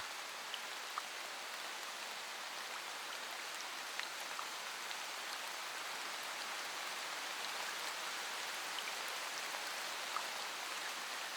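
Steady rain falls in a dense, even hiss with scattered individual drops ticking throughout, continuous and unbroken.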